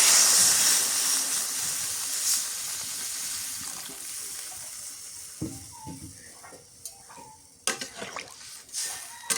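Water added to a pan of sautéed cabbage curry brings a loud hissing, steaming sizzle at first, easing into a softer bubbling hiss with scattered clinks and scraping knocks of a utensil toward the end.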